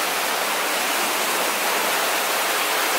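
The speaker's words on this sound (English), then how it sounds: "I can see the waterfall." A waterfall in Pinnacles National Park gives off a dense, unbroken rushing roar that stays constant and loud throughout, with no voices over it.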